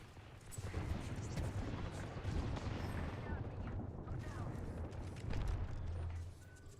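Gunfire in a shooter video game, dense bursts of rapid shots and booms rolling on continuously, fairly faint overall, then dropping off abruptly at the end.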